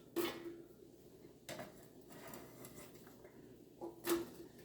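Onions slid into a pot with garlic on a new cooktop in a home kitchen, giving a few soft clatters and scrapes of utensil against cookware spaced over several seconds, with quiet gaps between.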